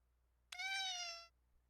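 A single clear cat meow, rising then slowly falling, lasts under a second against a quiet indoor background.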